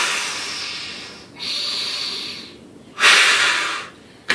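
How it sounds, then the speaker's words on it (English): Three strong, forceful exhalations through puckered lips during Nauli Kriya breathing practice, each a close, hissing rush of air, the last the loudest, separated by brief pauses. "Breathe out, pucker up, breathe out strong"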